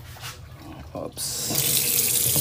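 Tap water gushes steadily for goats on a rural farm, starting abruptly after a second of quieter farmyard noise and continuing as a loud, constant splash.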